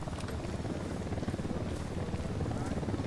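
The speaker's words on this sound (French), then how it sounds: "Hélico de l'unidad en approche." A helicopter's rotor thumps in a fast, steady rhythm at moderate distance in the video game Ghost Recon Wildlands, a continuous chopping drone with no clear talking over it.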